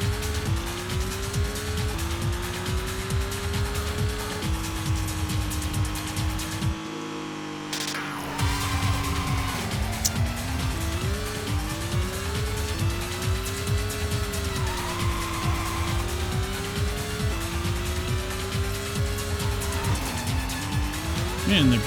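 A race car on the PlayStation in Racing Lagoon drones with a steady engine whine that rises and falls through gear changes, with tire squeal and a person talking over it.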